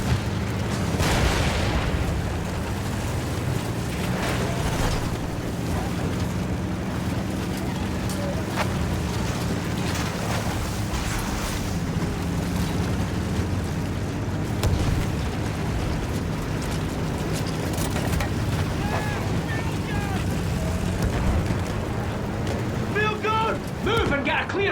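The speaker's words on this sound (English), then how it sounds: "Fire incoming! Artillery's tearing the boys apart!" Artillery shelling on a World War I battlefield in Battlefield 1, heavy rumbling blasts and booms rolling beneath continuous battle noise and shouted voices.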